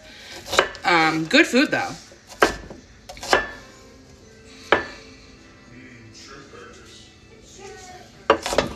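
A knife chopping onions for a salad on a cutting board, several sharp separate knocks spaced apart, with a person talking briefly at the start.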